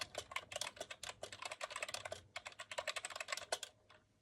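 Rapid, steady typing on a computer keyboard, close and soft, with dense rhythmic key clicks tapering off near the end and no speech.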